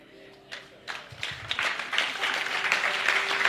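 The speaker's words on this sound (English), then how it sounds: "And only Jesus is worthy of all this applause." An audience in a church breaks into applause, clapping that starts sparse and builds into steady, dense clapping filling the room, with a voice heard briefly near the start.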